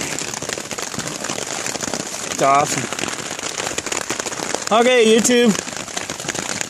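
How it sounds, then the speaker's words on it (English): Heavy rain drums on a tarp shelter during a thunderstorm while camping, a dense, loud, crackling patter that runs throughout, with someone speaking briefly over it. "That's all the rain hitting the tarp."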